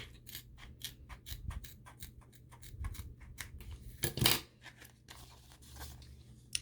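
Scissors snip repeatedly through a stiff sheet of glitter vinyl, a steady series of crisp cuts close by, with one louder crunching cut near the end.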